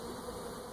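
Bees buzz around a painted wooden hive box during a move from a nuc, a steady low hum that stays even and close for a brief moment.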